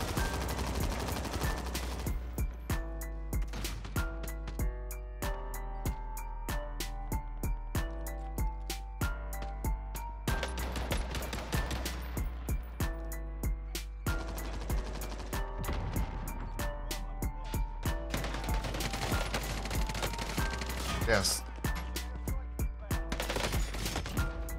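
STG 44 and M1 fire in the Warzone video game: rapid bursts of sharp, close shots repeating throughout, with tonal game sounds underneath and no speech.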